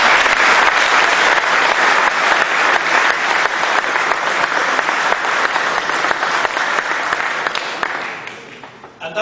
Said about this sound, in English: So I'm going to invite you now just to give a hearty applause.